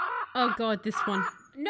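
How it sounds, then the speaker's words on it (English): A raven in the video game Cult of the Lamb gives a few harsh, throaty caws in quick succession, interleaved with a person speaking close to the microphone. "This time, the majestic raven."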